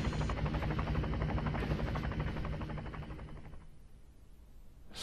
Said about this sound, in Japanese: 明らかにヘリ。